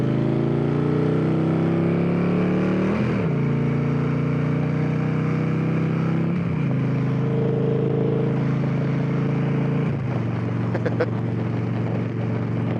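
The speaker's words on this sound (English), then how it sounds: "Gets up to speed for the interstate just nicely." A Victory Cross Country touring motorcycle accelerating onto an interstate, its engine droning loud and close, with pitch climbing through three gear changes before settling into a steady cruising hum with wind noise.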